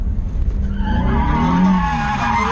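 Car tires squeal loudly and continuously as the car drifts around a track during a drift-driving lesson, with a steady engine roar underneath and no voices.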